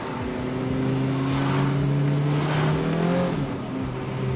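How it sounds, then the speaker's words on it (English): A 2023 Volkswagen Arteon R-Line engine in sport mode revs and pulls hard, its tone climbing steadily in pitch with a throaty growl heard from inside, no talking. "you can definitely hear when you put it in sport, it's almost like the valves are opening"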